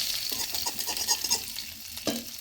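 Eggs fry in a small amount of oil with a pinch of turmeric, giving a short burst of crackling sizzle with quick spatula scrapes and taps against the pan, and no voices.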